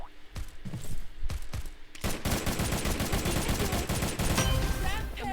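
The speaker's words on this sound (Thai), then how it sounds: "เมื่อกี้ได้ยินเสียงปืนมาจากฝั่งเนี้ย" Bursts of rapid gunfire from weapons in the video game Mini World Royale, a few sharp separate shots followed by sustained automatic fire, loud and close.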